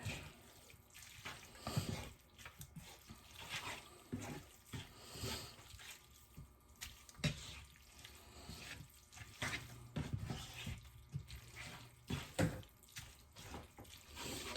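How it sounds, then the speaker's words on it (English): Reserved pasta water is poured into a dry sun-dried tomato sauce in a home kitchen, a soft, irregular splashing and trickling of liquid heard close up with no speech over it. "I am gonna add in some of the reserved water from the pasta to make it a little creamier."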